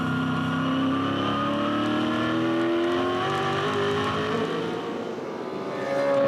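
A 2006 V8 Supercar race car climbs out of a corner under gentle throttle in second gear at Darwin, its engine note rising in a loud, continuous onboard drone with no voices.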